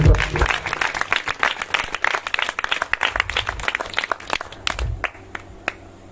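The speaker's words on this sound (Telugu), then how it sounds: "చప్పట్లు కొడుతూ దేవున్నా మనం." A church congregation claps in a steady, dense burst of applause that fills the room, then thins out and fades near the end, with no voices clearly above it.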